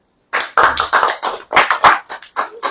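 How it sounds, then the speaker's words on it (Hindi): Loud, close hand clapping during a church sermon gathering, around nine quick claps in a steady rhythm with a brief pause midway. "ताली बजाइए।"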